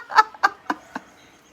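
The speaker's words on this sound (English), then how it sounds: "your chicken's having a fit." Agitated chickens clucking in four sharp, loud bursts spaced about a quarter second apart, close by, with no voices.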